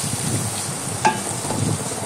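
Shrimp fries in a pan for a raw jackfruit curry, a continuous close sizzle with a single bright clink of a spoon as it is stirred.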